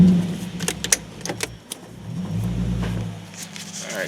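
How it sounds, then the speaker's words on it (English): A Nissan 350Z engine cranks and starts after a jingle of keys, then settles into a low, steady idle close by, with no talking. "let me go ahead and start it up"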